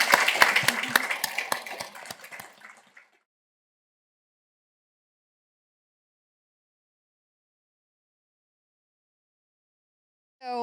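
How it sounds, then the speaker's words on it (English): An audience at a climate and sustainability career expo claps for about three seconds, the applause fading quickly into silence, with a brief sound returning at the very end. "Please give a round of applause."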